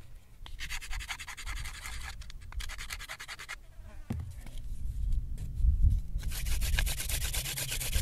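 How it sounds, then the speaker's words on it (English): A wooden spindle drilled back and forth into a board for a friction fire gives close, dry scratching and rubbing in rhythmic bursts, with short pauses between strokes. "You can even hear the sound of dust forming from the friction"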